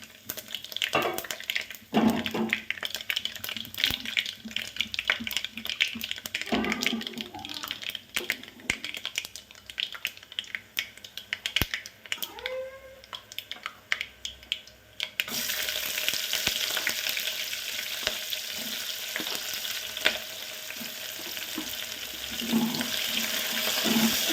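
Mustard seeds and cumin frying in hot oil in a home kitchen pan, a steady crackling sizzle with scattered pops that grows brighter and denser partway through, with no talking.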